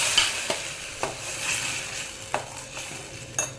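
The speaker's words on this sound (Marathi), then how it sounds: "कांदा भाजला आता आपण वाटण टाकायचं" Ground masala paste fries with roasted onion for a Malvani prawn curry, a continuous sizzle broken by several sharp spoon scrapes against the pan, close and clear with no speech.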